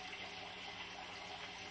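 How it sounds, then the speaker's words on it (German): Cold tap water runs steadily into a measuring cup, a faint, even hiss of filling liquid with no break. "Füllen wir mit kaltem Wasser voll den Messbecher."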